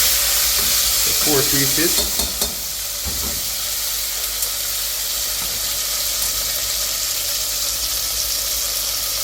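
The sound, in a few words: oxtail pieces searing in a hot pan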